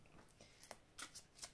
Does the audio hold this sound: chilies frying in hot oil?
no